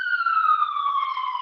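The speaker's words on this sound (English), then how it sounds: "New York sirens in the background." New York police sirens wail continuously in the background, a steady high tone drifting slowly downward in pitch, moderately loud and alone without talk.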